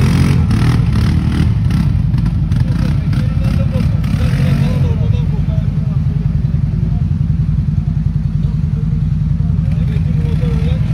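A Polaris ATV engine runs hard and loud nearby, a steady low throbbing roar with rattling and clatter, while it pulls on a rope outdoors.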